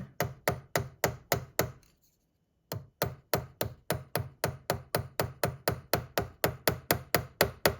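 A hand hammer strikes hot metal while a blacksmith forges a hinge, with steady, rapid, evenly spaced ringing blows, a short pause, then another long run of blows, close and loud with no talk.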